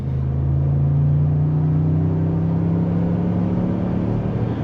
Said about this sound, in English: Give a little gas here.